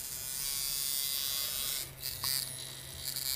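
A Chinese-made coil tattoo machine runs with a steady, close electric buzz that briefly drops out and then resumes.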